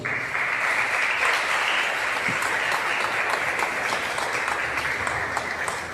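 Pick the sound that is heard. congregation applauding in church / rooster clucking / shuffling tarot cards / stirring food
congregation applauding in church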